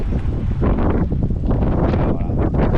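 Light wind buffets the microphone on an old road in Spain between Bocairent and Xàtiva, a continuous low rumbling gust noise, close and fairly loud, with no talking.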